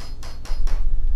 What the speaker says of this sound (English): We just need to square up the shallow mortise to receive that false through tenon plug.